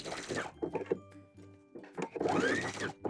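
Sewing machine stitching through a thick pants waistband, a close whirring run, a pause with a few clunks, then another loud burst of stitching.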